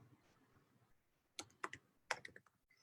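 A few quick keystrokes on a computer keyboard while typing a CSS filename in a code editor, sharp close clicks in two short bursts after a quiet pause.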